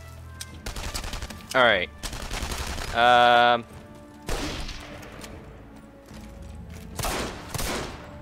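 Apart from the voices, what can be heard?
gunfire in the video game Enemy Front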